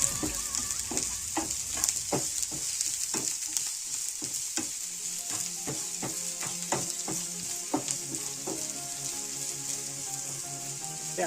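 Onions frying in a pan for an omelette give a steady, close sizzle, with frequent scraping and clicking stir strokes spread through the clip and no talking.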